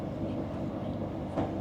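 Inside a bullet train's business class carriage on the way to Rome, a steady low rumble of the moving train with a faint rhythmic rattle and a brief louder bump near the end.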